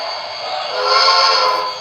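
A steam whistle from a BLI PRR Q2 Duplex #6187 model train sounds in one long, steady, bright blast that swells slightly in the middle and is heard close.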